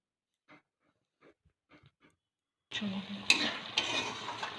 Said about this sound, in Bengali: এই দেখো তোমাদের দাদাভাই মাংসটা নাড়ছে